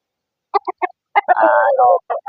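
Texas turkeys raised for sale on a farm, a close, loud gobble: a few short clucks, then a sustained warbling call and more clipped notes, with no talk.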